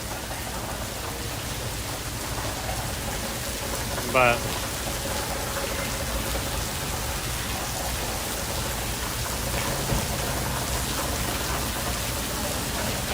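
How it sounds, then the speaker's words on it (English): Rainwater running off surfaces during Tropical Storm Hilary in southeastern California, a dense steady wash of pouring water and heavy rain, loud and constant, with a brief spoken word. "you're hearing the rain run off of these"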